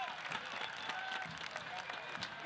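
Stadium crowd at a Phoenix Rising FC versus Colorado Springs Switchbacks soccer match applauds a substituted player, sustained dense clapping with scattered sharp claps and faint crowd noise mixed in.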